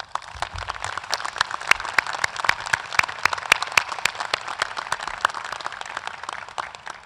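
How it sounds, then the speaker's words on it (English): Audience applause at a 2016 Rowan University commencement ceremony for the College of Science & Mathematics and School of Health Professions, a steady sustained patter of many hands clapping from a large crowd, moderately loud with no one speaking over it. "All of these people deserve a great round of applause for their tremendous contributions to Rowan University."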